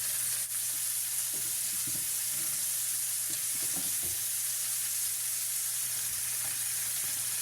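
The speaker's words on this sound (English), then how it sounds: "pick up the rosemary so it doesn't burn. And we repeat that basting process." Steak sizzles and fries in a hot pan while being basted with rosemary and garlic, a dense steady hiss with scattered spoon scrapes and clinks, close and continuous, no talking.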